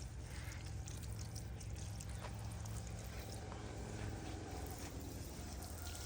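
Water from a hand pump pours onto plants in a Pakistani village, a steady, continuous close-up splashing rush with no let-up.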